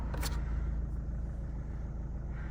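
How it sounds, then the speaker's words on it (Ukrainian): A Renault Clio 4 from 2013 with the 1.5 dCi K9K diesel runs with its air conditioning compressor engaged, giving a steady low mechanical hum and drone with a brief higher hiss near the start, with no talk over it. "працює, чую, компресор класно."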